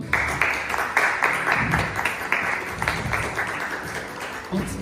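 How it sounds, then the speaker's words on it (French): Audience applause at a French-language evening talk on spirituality, justice and Bitcoin, a dense steady wash of clapping with scattered louder claps, filling the whole stretch and easing slightly toward the end. "un tonnerre d'applaudissements pour Monsieur Dr Dino Vazovic"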